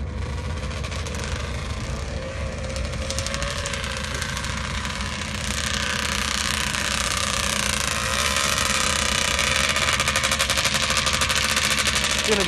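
Pro 2 drag racing motorcycles roar through a semifinal run, a loud, harsh and rapid-firing engine blare that holds steady and swells in its second half, with faint voices underneath.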